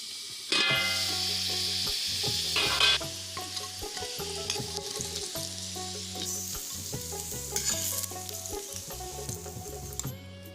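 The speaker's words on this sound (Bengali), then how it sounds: "মাঝারি ফ্লেমে কিন্তু আলুগুলোকে আমি বারবার নেড়ে ছেড়ে ভেজে নিয়েছি" Potatoes fry in a pan over a medium flame while being stirred repeatedly for a pumpkin chhokka, a steady sizzle running beneath prominent tuneful background music throughout.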